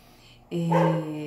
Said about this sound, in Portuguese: Olha o meu cachorro latindo, dá pra ouvir